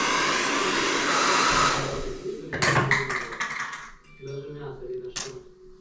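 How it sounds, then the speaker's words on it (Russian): A hair dryer runs steadily off a Romoss RS1000 portable power station, then cuts out amid clicks and handling noises, followed by a quieter hum and people talking. "Один час 30 минут он может работать с феном."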